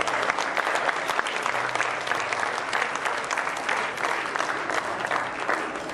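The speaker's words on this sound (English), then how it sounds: "Let's give them a round of applause." An audience at a formal address gives sustained, dense clapping that fills the whole stretch at a steady level, with a faint voice underneath.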